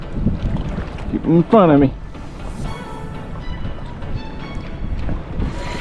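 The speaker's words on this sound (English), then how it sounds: "Paddling backwards." A kayak is paddled backwards while fighting a big snook, soft water strokes and wind noise close by, with someone talking excitedly and a brief whistle-like cry over it.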